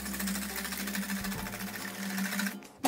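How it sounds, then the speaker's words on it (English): A whisk beats egg yolks and whites together in a bowl for a frittata, making a fast, steady run of close metallic clicks for nearly three seconds before stopping abruptly. "I'm gonna give this a whisk before I put my milk in"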